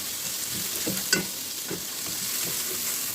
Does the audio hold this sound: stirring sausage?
yes